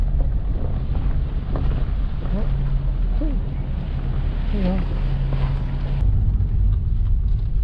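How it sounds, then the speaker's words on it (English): A low, steady engine drone from a trawl boat passing at a distance on the Intracoastal Waterway at Holden Beach, North Carolina, with wind buffeting and scattered bird calls over the top. "look at the big trawl boat going through the intercoastal waterway right back in the background there"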